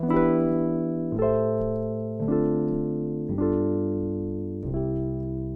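A smooth 3-6-2-5-1 chord progression: five sustained chords, each struck and allowed to ring before moving to the next, resolving at the end; no voices.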